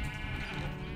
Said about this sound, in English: There's a sheep here.